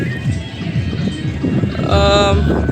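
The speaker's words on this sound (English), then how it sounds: "And it is really windy" Strong wind in dry, hot weather near Triveni Sangam in Prayagraj, India, buffets the microphone with low rumbling gusts, and a voice breaks in briefly near the end.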